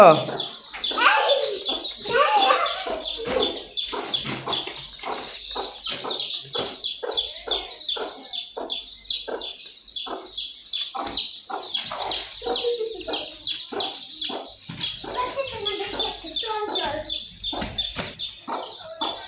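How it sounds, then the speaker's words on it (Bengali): Domestic hens and their chicks cluck and peep close by in a busy, overlapping stream of short calls that never settles, while a person talks among them. "সোনাইরা মুরগির বাচ্চা তুলতে পারছো সব কটা?"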